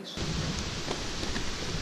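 Dense, steady rain noise with a rushing wind-like roar, continuous and fairly loud after a brief quiet start.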